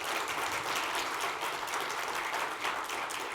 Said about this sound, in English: Can I have a round of applause for Sergeja, please?